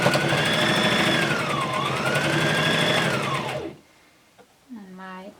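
A sewing machine stitching a cloth face mask with filter pockets runs in a loud, steady close-up whir for several seconds, then stops, and a voice speaks briefly afterward.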